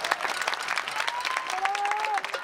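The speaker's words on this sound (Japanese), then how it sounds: "東京ベルディユースの皆さんへ大きな拍手をお願いします。" Crowd applauding at a football match for Tokyo Verdy youth players, a steady patter of clapping heard from within the stands, moderately loud, with a faint whistle-like tone and some voices mixed in.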